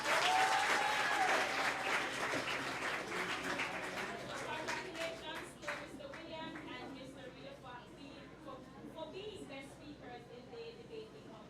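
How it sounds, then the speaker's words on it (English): Audience applause at a high school debate on World Wetlands Day, loud at first then thinning into scattered claps with crowd murmur over about eleven seconds. "Give them a round of applause."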